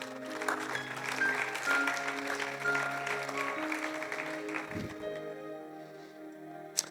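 Church congregation applauding and cheering in praise during a French-language sermon, sustained clapping with musical tones underneath, easing off toward the end.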